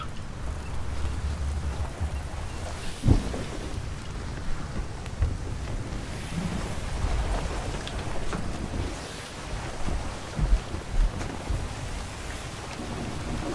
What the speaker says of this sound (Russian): Ветер. Какая волна, смотрите.